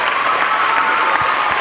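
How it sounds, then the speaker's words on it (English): A school assembly audience claps steadily for about a second and a half, a dense, loud, continuous applause filling the hall with no speech over it. "if we could all give Mr. Brown a round of applause"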